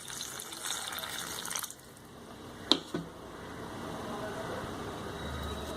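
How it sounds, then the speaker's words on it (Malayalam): Water poured into a pan of mixed vegetable theeyal curry, a soft steady splashing and trickling at low volume, with a brief clink of a utensil midway. "ഇനി ആവശ്യത്തിന് വെള്ളവും കൂടി ചേർത്ത് കൊടുക്കാം."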